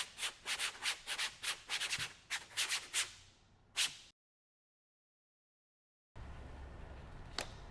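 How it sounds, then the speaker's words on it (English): Brisk back-and-forth strokes of sandpaper on a hard panel, a dozen rough rasps close by, then a pause before faint rubbing resumes. "Let's give it a quick sanding."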